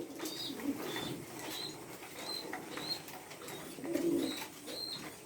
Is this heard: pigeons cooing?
yes